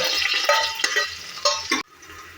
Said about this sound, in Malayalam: ഇനി പച്ചമുളക് ഇടണം പച്ചമുളക് ഇതൊന്ന് മൂത്ത് വരട്ടെ